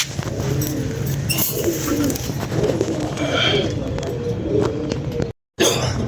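Pigeons cooing on a rooftop loft, repeated soft throaty coos close by, with some background noise and a brief dropout near the end.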